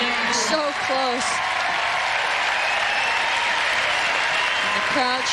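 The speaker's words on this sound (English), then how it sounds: "the crowd showing its approval for the hometown favorite" A tennis crowd applauds for the hometown favorite, Lindsay Davenport, at the 1998 Acura Classic ladies' singles final, a steady dense wash of clapping that holds for several seconds, with brief faint chirps over it.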